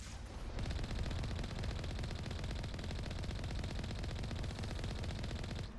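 Sustained rapid automatic gunfire in the Mass Effect video game as rocket turrets are shot down, a dense, loud, continuous rattling burst running almost the whole clip with no pause.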